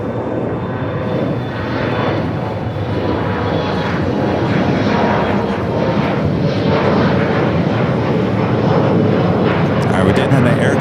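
A Boeing 777 airliner touches down on the north side at LAX, a steady loud broadband jet roar lasting throughout with voices talking faintly underneath.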